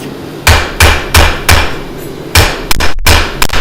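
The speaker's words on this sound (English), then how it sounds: "So I just take my rubber mallet, I lay it on a flat surface, but you see there's a nice curve happening there. And I'm hitting on the curve." A rubber mallet strikes curved sheet metal resting on a flat surface: seven or eight loud, close, dull thuds in a steady rhythm, with a brief pause midway and no talking.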